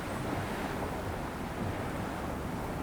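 Sea waves wash against seaweed-covered rocks at Noosa Head, Australia, a steady, loud wash of surf with wind buffeting the microphone throughout, no voices.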